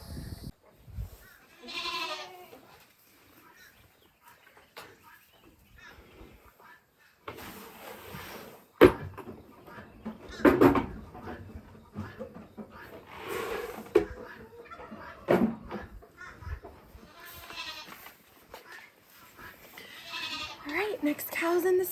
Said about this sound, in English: Look at these goats.